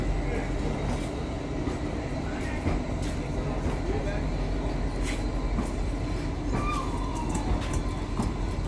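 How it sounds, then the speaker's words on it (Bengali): The Kalka–Shimla toy train pulls out of the station with a steady, close rolling rumble of carriages and a few faint metallic squeals, while people talk quietly in the background. "3:30-এর ট্রেনটা ছেড়ে দিল"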